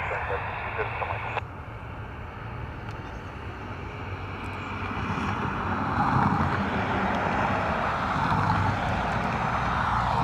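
Falcon business jet lining up on runway 28 left at Dublin Airport, a steady distant engine roar that swells gradually, mixed with wind noise and occasional talk.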